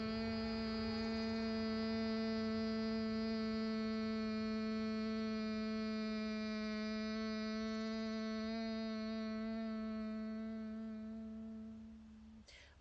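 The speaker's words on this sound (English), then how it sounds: "close your ears and exhale through the nose with a hum" A steady, sustained nasal hum on one pitch, made while exhaling through the nose with the ears closed during a yoga breathing practice, held for about twelve seconds before tapering off.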